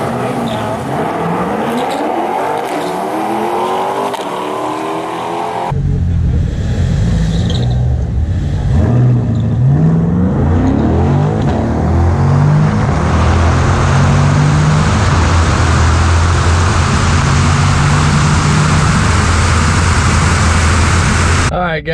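Chevrolet C8 Corvette roaring down a drag strip, engine note climbing through gear changes after a loud launch, sustained close and intense with rising wind and road noise.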